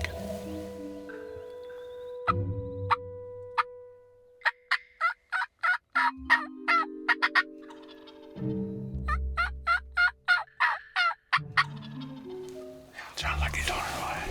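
Wild turkeys gobbling, with repeated rapid rattling gobbles and yelping calls in bursts, some near and some farther off, while a person whispers quietly between them.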